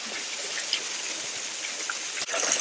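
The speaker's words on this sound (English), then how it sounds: "Coach Stephen, what do you think of the waterfall, the precipitation fall?" A waterfall pours in a steady, close hiss of rushing water, constant and fairly loud throughout, with a brief thump near the end and no talk.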